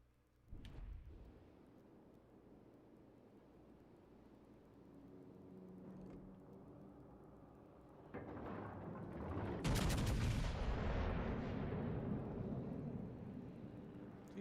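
Naval gunfire from HE shells in the World of Warships Legends video game, with sharp booming salvos and rumbling blasts, one early and a heavier, sustained barrage later, with no talk.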